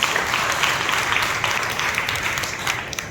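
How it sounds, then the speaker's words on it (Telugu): A church congregation clapping loudly in praise, dense sustained applause filling the room without pause, no voices standing out. "బిగ్గరగా చప్పట్లు కొట్టి ప్రభువును స్తుతించాడు."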